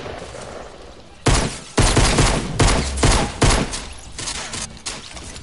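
Loud bursts of video game gunfire in a battle royale match, several heavy volleys in quick succession with short gaps, rolling and close, with no talking.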